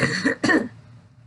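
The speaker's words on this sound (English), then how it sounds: "I tried to laugh, but I coughed." Two sharp coughs in quick succession, close and fairly loud, followed by a quiet tail; no speech.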